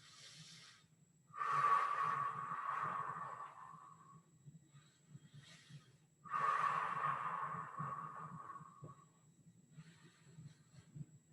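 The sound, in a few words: deep breathing during mobility exercise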